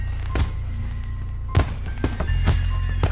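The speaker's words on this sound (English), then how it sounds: "More and more rockets rise up to the sky, the bright colours of their explosions reflecting from the clouds" Fireworks from the visual novel game Katawa Shoujo: three or four sharp booming bursts crack out at intervals over a steady low musical hum, each trailing off into a brief crackle.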